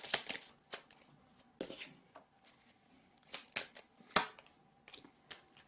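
Playing cards drawn and shuffled at a table, a run of crisp flicking and slapping bursts in an uneven rhythm, close by and with no voice.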